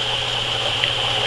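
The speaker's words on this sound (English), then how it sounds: "it constantly sprays" Water sprays and hisses steadily inside an Oxyclone 40 hydroponic cloner, a continuous fine rushing under a low pump hum.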